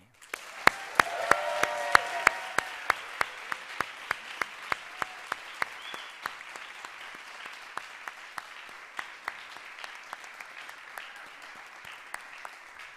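Applause for music awardees at a school of music convocation, with a soft wash of clapping from the crowd and one loud, evenly spaced clapper close by, slowly fading over about thirteen seconds.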